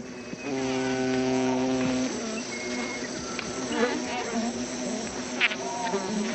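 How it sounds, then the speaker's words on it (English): Sweat bees swarm over a dead lizard carcass in the Amazon, a steady close insect buzz filling the whole stretch with faint wingbeat hum and small crackles, no voices over it. "In a few hours, sweat bees have found a meal."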